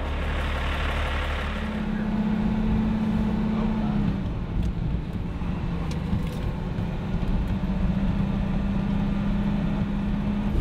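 A 37-year-old truck rumbles along a rough, uncleared forest road with a steady low engine drone and a continuous hum from the cab.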